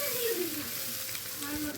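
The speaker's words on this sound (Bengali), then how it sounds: "এবার মশলাটার সঙ্গে মিশিয়ে নিচ্ছি।" Fried eggs sizzle steadily in a pan as they are stirred together with spices for a pasta dish, a continuous close frying hiss with faint scraping of the stirring.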